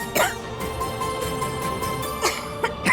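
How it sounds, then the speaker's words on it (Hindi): Someone in a Hindi TV drama scene coughs in a few sharp, separate bursts, near and fairly loud, with quieter room sound in between. "अचानक से इतनी खांसी क्यों आने लगी?"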